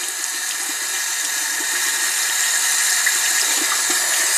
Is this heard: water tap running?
yes